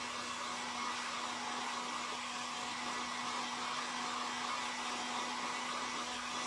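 Steady, loud blowing roar of a hair dryer drying stamped pumpkins made from book pages, unbroken and close throughout with no talk.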